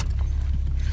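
Car keys jangling close up in one brief continuous metallic rattle over a low rumble, with no voices.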